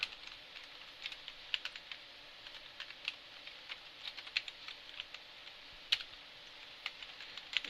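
Code being typed on a computer keyboard: quiet, quick, irregular key clicks with a few sharper taps, close but faint over a soft hiss, no voices.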